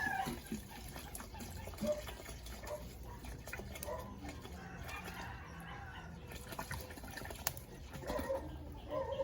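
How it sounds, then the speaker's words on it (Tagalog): Water poured from a tap or container into a cooking pot at home, a quiet, steady liquid fill with faint background noise throughout. "Lagyan na siya ng tubig."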